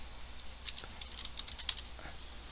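Light typing on a computer keyboard, a quick irregular cluster of soft clicks over a couple of seconds, close and fairly quiet.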